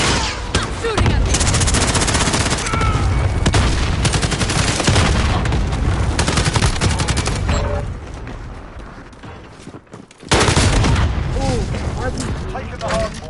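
Rapid automatic gunfire and bursts of shots in a shooter video game, with near, loud volleys and booms almost nonstop, a brief lull near the end before firing resumes, under radio-style voice callouts.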